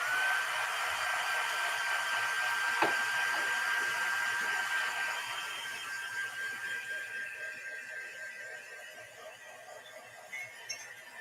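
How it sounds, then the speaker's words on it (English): Hair dryer blowing on mixed media artwork, a steady whine and airy rush that runs continuously then fades and thins out toward the end, with a brief knock partway through. "I am going to hit this with the dryer."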